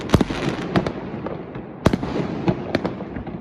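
New Year's Eve fireworks explode in a scattered series of sharp bangs, some louder and nearer, others fainter, with crackling between blasts.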